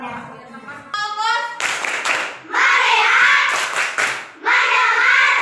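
A classroom of children clapping hands together in loud, rhythmic bursts, pausing between rounds, with a teacher's voice and children's chatter heard between and under the claps.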